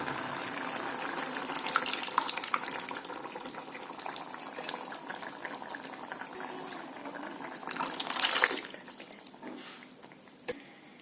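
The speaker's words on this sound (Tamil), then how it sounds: "இப்போ இது கூட வேக வச்ச பருப்பை சேர்த்துக்கலாம்." Cooked lentils go into a simmering vallarai keerai sambar, with a soft bubbling and sizzling throughout and a brief splashing pour near the end.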